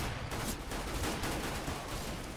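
Rapid bursts of gunfire from the video game Counter-Strike GO, dense and continuous across the whole short stretch, loud and crackling with no talk over it.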